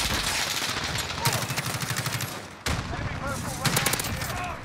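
Video game gun firing in rapid automatic bursts, a steady rattling stream of shots that pauses briefly midway and then resumes, loud and close.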